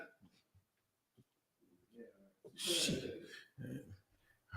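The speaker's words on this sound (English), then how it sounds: "Somebody sneezed out of it." A person in a group room lets out one loud, breathy sneeze, set among people talking before and after it.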